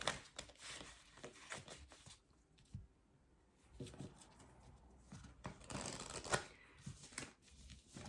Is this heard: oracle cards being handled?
yes